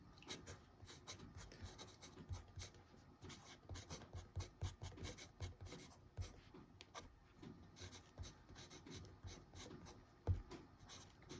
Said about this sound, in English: I've refilled a Lamy cartridge with Diamine Cerise, which I'll have a quick writing sample.